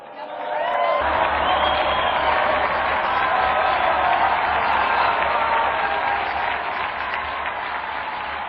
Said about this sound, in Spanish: Brindemos nuestro más cálido aplauso a San Casimiro de Polonia